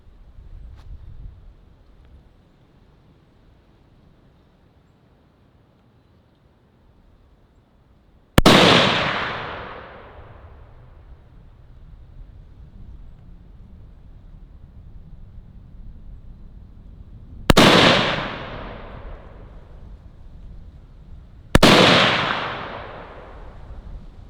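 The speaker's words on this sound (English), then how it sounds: "we're going to shoot a 5-round grouping and see what happens" Three sharp, loud pistol shots ring out from a PSA PA10 Gen 3 as part of a five-round group, each followed by a decaying echo, with long quiet gaps between them and a low background hum.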